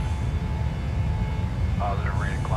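Airliner engines roar steadily during takeoff in a flight simulator, a constant low drone with a faint tonal whine, and a voice speaks briefly over it near the end.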